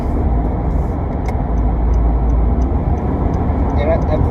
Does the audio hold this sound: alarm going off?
no